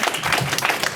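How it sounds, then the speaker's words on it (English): A short burst of applause from an indoor audience at a talk event, dense and fairly loud, with many hands clapping at once and no clear individual claps standing out. "Round of applause to Michael."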